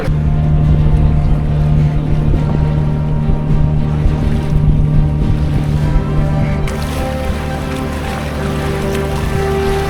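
A boat arrives at a jetty near Malvan, its engine giving a steady, loud low drone throughout, with the tone shifting slightly partway as it comes in over water.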